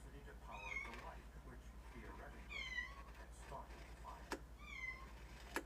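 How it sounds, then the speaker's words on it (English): A cat meows repeatedly in a sequence of drawn-out, rising calls, close by and fairly quiet, over a steady low electrical hum with a few sharp clicks between calls. "Go meow at the stairs."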